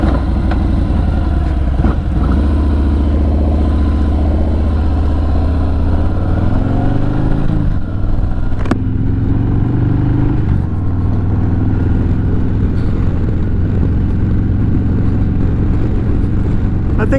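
Motorcycle engine running steadily up close while riding around the block, a continuous low drone that shifts pitch as it accelerates and settles, with wind rumble throughout and no talk.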